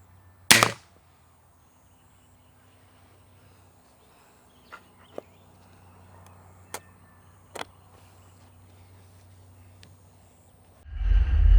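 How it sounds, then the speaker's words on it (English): A Beeman R9 .22 spring air rifle firing 18 grain pellets gives a loud sharp shot at the start and another at the end, with a few faint clicks and thumps in the quiet stretch between. "Shooting an 18 grain pellet will get you the 17 foot-pounds this gun is capable of"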